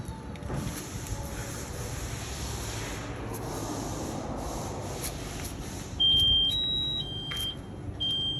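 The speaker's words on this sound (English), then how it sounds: "here's the pass alarm that I was talking about" Firefighter's PASS alarm triggered by standing motionless, sounding as high electronic beeps and warbling tones over steady background rumble, rising in loudness toward the end.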